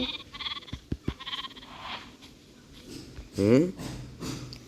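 A lamb in the game Minecraft gives a short wavering bleat midway, loud and close, among clicky game sounds and stretches of a person talking.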